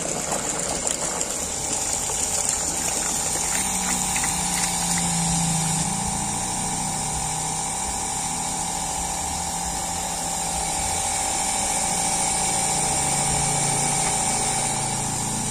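An electric water pump runs continuously against a closed stop valve, a loud, steady motor whine with a strong sustained hum and an undercurrent of churning water, with no voices throughout.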